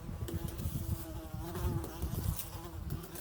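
Close, continuous buzzing of a fly in a cave in Puerto Rico, humming steadily with slight wavering over a few seconds, nothing else audible.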